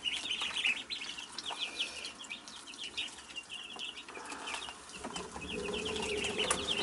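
Week-and-a-half-old chicks and ducklings make busy, continuous high peeping and chirping close by, with scattered soft clucks and wing flutters throughout.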